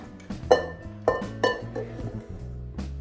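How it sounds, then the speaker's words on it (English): A glass bowl rubbed with olive oil gives a few light, close glassy clinks and knocks, spaced about half a second apart, over steady background music. "we're going to lightly oil our bowl with some olive oil"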